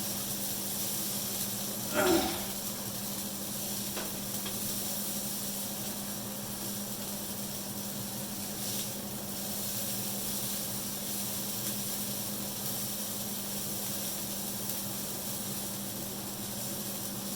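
Steak browns in a pan with a soft, continuous sizzling hiss held at low level over a steady hum, one brief louder clatter early on.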